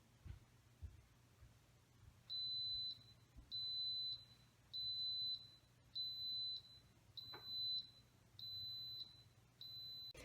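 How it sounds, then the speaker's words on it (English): An Instant Pot pressure cooker beeps seven times in a steady, evenly spaced series of short electronic tones, fairly close and clear over a low background hum. "Once the pot has beeped, it will start counting up"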